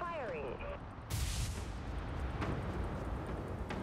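A heavy weapons salvo booms from a capital ship in the space combat game Dreadnought, one loud blast followed by a rumbling roar and scattered impacts, after a brief voice and electronic chirps.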